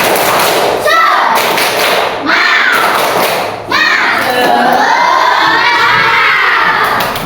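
A group of standing participants does a rhythmic clapping ice-breaker at an education programme session, loud bursts of clapping and shouting broken by short pauses, with lively voices throughout.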